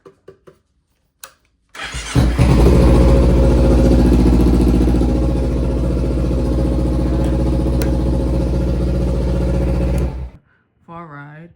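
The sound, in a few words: motorcycle engine started and running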